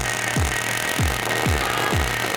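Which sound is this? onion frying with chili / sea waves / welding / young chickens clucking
welding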